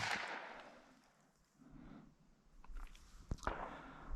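A Federal .22LR shotshell fired at a target outdoors over dirt ground, one sharp distant crack arriving late after a stretch of quiet wind and rustle.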